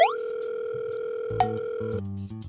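A phone call placed through KakaoTalk rings out unanswered: a steady, moderately loud ringback tone holds throughout, with a short electronic chime partway through and no voices.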